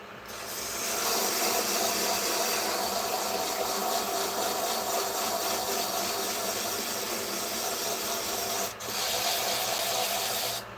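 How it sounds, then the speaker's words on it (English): A wood lathe spins at 1400 RPM with a continuous whirring hum while 80-grit sandpaper rasps against a turning cherry wood pen blank, steady and close, briefly dipping near the end. "Now I have it going pretty fast. I have the lathe going at 1400 RPMs."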